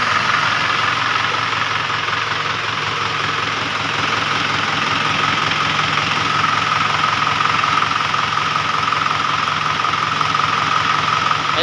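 A car engine idles steadily and close by in a workshop during a steering gear box repair, a constant even hum with faint knocking texture and no speech.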